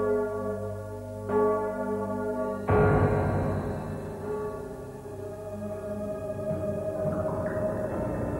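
Large 4.5-tonne bell of the Graz clock tower tolling, deep sustained strikes with long ringing overtones layered on one another, loud and close, no voices.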